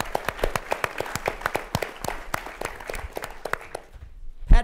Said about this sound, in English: How about a round of applause for Pete Thamel?